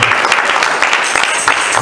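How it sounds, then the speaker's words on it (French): A church congregation applauding and cheering in worship during a French-language sermon, a dense, loud wash of clapping and voices that continues without a break. "Demeurons dans les acclamations en présence de notre Dieu."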